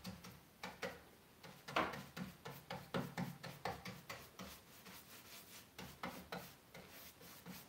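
Grey wax being rubbed by hand into the trim of a faux wood nightstand, a quiet, close series of rhythmic scrubbing strokes, roughly two per second, soft and dry.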